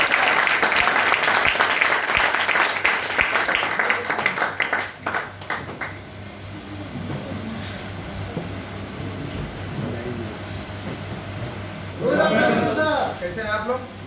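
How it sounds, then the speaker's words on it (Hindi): A standing audience at an indoor training event gives loud, dense applause that tapers after about five seconds into scattered claps, with a presenter speaking into a microphone toward the end. "आप सभी लोग खड़े होकर एक जोरदार तालियों से स्वागत करेंगे।"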